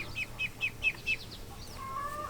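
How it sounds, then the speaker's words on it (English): Geese and a turkey on a farm give a quick series of about five short, clipped calls, followed by a longer drawn-out tone, fairly near with no speech. "The gooses and a turkey."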